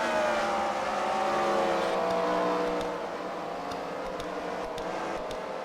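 Race cars circling the track at the Freedom Factory during a CWRL fight night round, their engines a steady, fairly distant whine that shifts in pitch as they pass.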